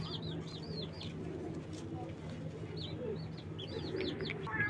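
Small balance pigeons, a Black Check among them, coo in a loft with repeated soft calls under steady background noise and occasional chirps from other birds.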